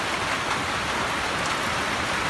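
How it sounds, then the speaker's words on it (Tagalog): Heavy rain falling in a forest, a steady dense hiss of drops with no breaks or voices, moderately loud throughout. "talaga pong malakas ang ulan"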